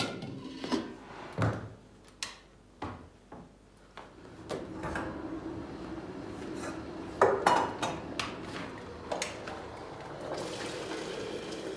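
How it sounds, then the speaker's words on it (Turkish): A metal cooking pot is handled and its lid closed in a village kitchen, giving a series of clanks and knocks at close range, with rustling and more clatter afterward. "Tenceremin ağzını kapatayım."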